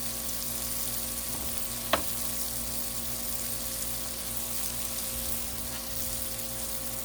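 Hot dogs sizzle steadily on a Blackstone griddle, a dense continuous frying hiss close by, with one brief sharp tap near the start and no talking.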